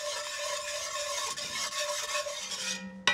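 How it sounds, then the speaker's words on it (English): A whisk stirs fresh gochujang into a sauce, making a steady, close scraping and rasping against the bowl for about three seconds, with no talking. "I'll use a whisk to really incorporate that."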